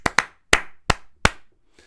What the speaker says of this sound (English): They had to clap out a tune on their hands